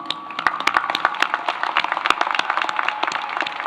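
A commencement ceremony audience applauds with many distinct sharp claps close by, forming a lively, uneven patter that runs throughout without speech.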